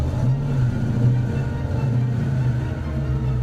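A Hennessey Venom GT's engine runs close by with a steady, deep low rumble and an even droning hum that holds without a break.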